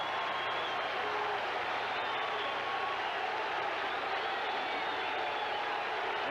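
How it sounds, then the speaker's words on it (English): Yankee fans clap in the stands during Game 3 of the 1978 ALCS, a dense, distant wash of crowd applause and murmur that holds steady throughout. "And the Yankee fans now are up clapping."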